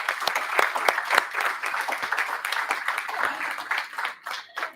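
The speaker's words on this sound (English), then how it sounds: "let's give them another round of applause" A congregation at a Mother's Day church service applauds steadily for several seconds, a dense, even patter of many hands that thins out abruptly at the end.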